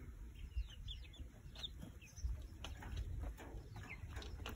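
Hens and chicks in a backyard flock around week six of brooding, with soft clucks and chirps scattered among close rustling and background noise, faint and intermittent.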